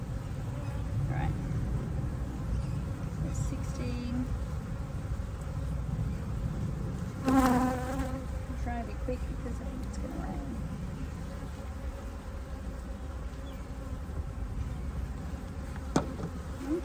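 Honey bees buzz steadily around a top bar beehive, a continuous close hum, and one bee passes right by. Someone talks over the buzzing.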